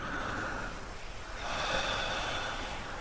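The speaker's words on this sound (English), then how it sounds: "Breathe out. Slowly." A slow, steady exhale of breath, soft and close, swelling slightly midway and trailing off, with no talking over it.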